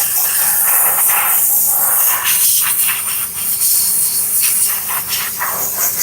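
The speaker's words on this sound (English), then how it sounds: "this is where we would agitate, or at least try to put the steamer as close as we can" A steam cleaner blasts a loud, continuous hiss while cleaning a car, its harsh spray surging and dipping slightly as the nozzle moves close to the surface.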